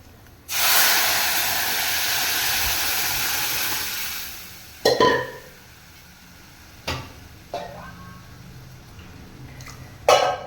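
Cumin seeds and chili sizzling in hot tempering oil for an Indian mallow leaf and lentil dish, a loud burst of hiss at the start that fades into a steady fry, with a few sharp pops and clatters later.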